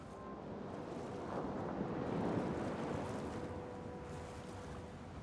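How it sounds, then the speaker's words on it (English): Waves crashing on a shoreline in The Elder Scrolls Online, heard as a steady, loud wash of surf and wind that swells slightly in the middle and then eases, with no one speaking. "it sounded like waves were crashing, but the water is completely smooth"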